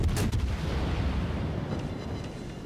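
Deep booming fire from a destroyer's naval guns in World of Warships rumbles and echoes, a dense low roar that slowly fades over a couple of seconds.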